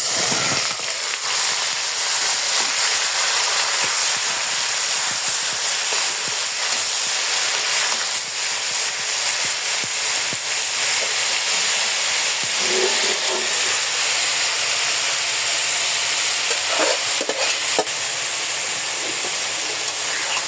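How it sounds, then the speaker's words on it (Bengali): Spinach greens tipped into a pan of fried garlic, giving a loud, steady hiss of sizzling oil that runs continuously without any talk. "রসুনটা ভাজি হয়ে গেছে এখন শাকটা দিয়ে দিব"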